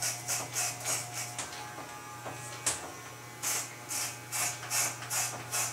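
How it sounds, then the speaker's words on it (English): Electric hair clippers buzz steadily at close range while shaving up the sides of a head for a fade, with a constant low hum and repeated brushing strokes as the blade passes through hair. "just shave up maybe about a couple centimeters, or let's say about an inch"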